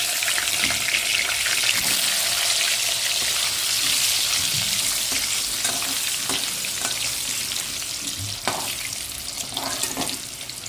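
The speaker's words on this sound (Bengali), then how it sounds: "প্রথমে আলুটা ভেজে নেবো" Potatoes coated in turmeric and salt fry in plenty of oil for a Bengali chicken curry, giving a loud, continuous hissing sizzle close by with scattered crackles and stirring knocks.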